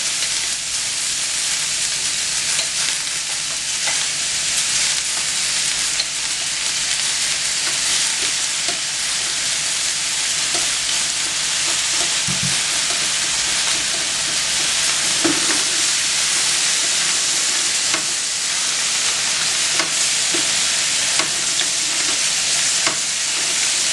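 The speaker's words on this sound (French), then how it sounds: "On remue rapidement." Mussels frying on a hot plancha griddle while being stirred, a dense, constant loud sizzle with occasional scraping and clinking from the stirring, close up and continuous for over twenty seconds without speech.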